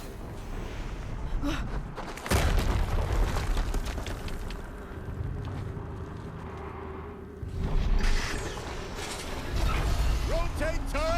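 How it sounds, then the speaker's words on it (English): Booming explosions from the Horizon Zero Dawn Remastered game erupt in loud bursts at intervals, surrounded by mechanical clanking, rumbling machinery and rising whistling tones, with a voice speaking over parts of the scene. "Another explosion."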